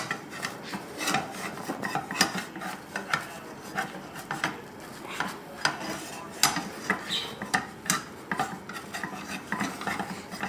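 A metal spatula scrapes and rasps under a frying egg in a pan, a string of quiet, irregular scratchy strokes close up, with no talking.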